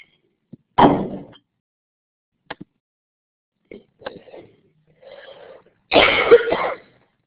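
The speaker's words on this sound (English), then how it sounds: "We can listen to me cough for a while" A few separate, close coughs with short bursts and quiet gaps, the loudest two at the start and end, with a small throat sound between them.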